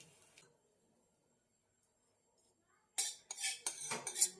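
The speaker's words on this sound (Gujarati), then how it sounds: "આમ ચમચીથી બધે બાજુ ફેલાવી દઈશું ઉપર નાખી દઈશું" Spoon spreading tempering over dhokla in a dish, quiet at first, then a burst of close metallic scrapes and clinks from spoon against dish.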